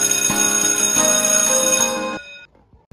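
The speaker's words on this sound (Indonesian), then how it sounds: "Bel sekolah pun segera berbunyi." A school bell rings loudly with a sustained electric chime and rapid repeated strikes for about two seconds, then cuts off abruptly, leaving a brief fading tail and near silence.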